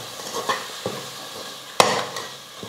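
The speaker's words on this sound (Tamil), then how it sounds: "தக்காளி நல்லா வதங்கட்டும்" Chopped tomatoes sauté with masala in a pan for tomato rice, giving a soft steady sizzle with a few spoon scrapes and one sharp clank near the end, with no talk.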